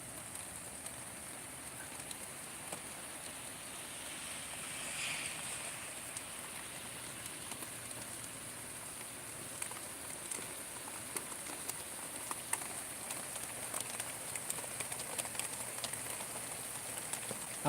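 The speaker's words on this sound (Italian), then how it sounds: "Non è che piove proprio forte forte, però sta piovendo perlomeno." Light, steady rain falling at night in Salerno, a soft continuous patter with scattered individual drop ticks heard from a distance, faint and with no voices.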